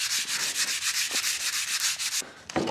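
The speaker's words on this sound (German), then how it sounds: "nehmen wir einfach Schleifpapier" Sandpaper rubbed back and forth along a wooden rod for a marble run, a steady rhythmic scratchy rasp of repeated close strokes that stops near the end, followed by a brief knock.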